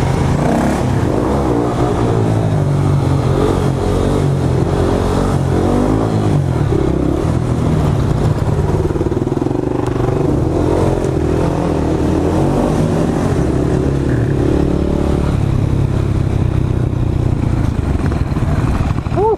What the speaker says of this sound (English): A little wheelie on the bridge.